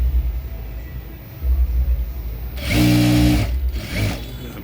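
A sewing machine stitches a blouse seam in a couple of short bursts, loud and close, with quieter handling of the fabric in between.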